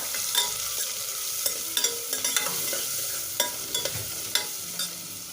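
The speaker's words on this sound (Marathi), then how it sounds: "त्याच्यातच आपण हे लसूण खोबरं कोथिंबीर बारीक केलेलं हे घालायचं आहे भाजून घेऊया" Chopped garlic, coconut and coriander roast in a pan for a Nashik-style rice dish, a steady frying sizzle broken by frequent sharp scrapes and clacks of a stirring spoon, close and clear.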